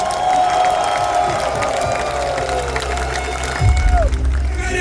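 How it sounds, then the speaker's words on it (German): Festival crowd at the Wacken Open Air metal festival cheering and applauding loudly and steadily, with a heavy low rumble swelling near the end and voices mixed into the din. "Bitte nochmal diesen Applaus."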